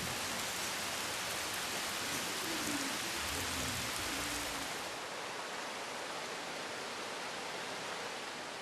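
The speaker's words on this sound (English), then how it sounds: "Rain in India falls with great intensity for a few hours on a few days in the monsoon months." Heavy monsoon rain pours down in India as a steady, dense hiss of falling water, fairly faint and continuous, with no voices.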